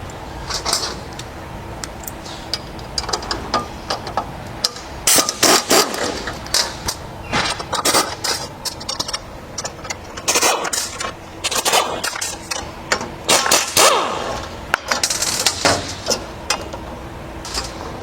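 Bolts being loosened and removed from the bracket of a Coxreels spring-driven hose reel, heard as a series of sharp metallic clicks, ratchet bursts and clanks in irregular clusters, close and fairly loud, with no talking.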